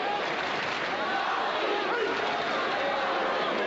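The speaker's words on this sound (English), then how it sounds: "And the crowd chanting for their favourite." Dense crowd roar and rhythmic chanting for Douillet fills a Paris judo arena during the 1997 95 kg bout against Shinohara, sustained and loud with no clear gaps.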